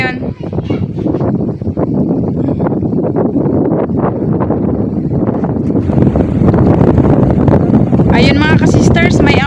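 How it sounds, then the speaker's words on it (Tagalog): Gusty wind buffets the microphone at sea aboard a small boat during early-morning net fishing, a steady loud rumble with waves, while people talk over it. "Medyo mahangin pa rin po yung weather natin ngayon"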